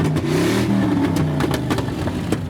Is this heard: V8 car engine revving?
yes